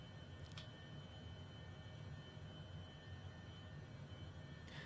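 The engine of an MG HJet small jet runs in Microsoft Flight Simulator, a steady, even rumble and hiss holding throughout with no voices.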